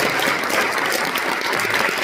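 Audience at a church leaders' forum applauding to welcome a pastor speaker: a steady, even wash of many hands clapping, loud and close, without talk over it.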